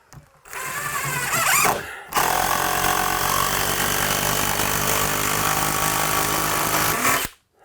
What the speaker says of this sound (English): When you're driving a lag bolt,